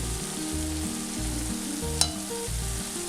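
Tomatoes and spice powders frying in a kadai for Kerala kadai chicken, a steady close sizzle with rhythmic stirring strokes and one sharp metallic clink partway through, and no voices.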